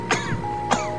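A child gives two short, quick coughs close by, about half a second apart, over a low steady background hum.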